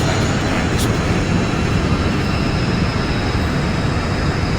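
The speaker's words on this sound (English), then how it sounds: "Let's see if I can land this plane." An Airbus A321 airliner coming in to land, heard as a loud, continuous broadband engine and airflow roar that holds steady throughout with no distinct events.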